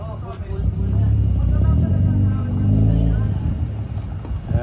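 Mitsubishi Lancer with a loose-compression, misfiring engine accelerating on a highway, a steady loud engine and road drone rising and swelling under ongoing talk.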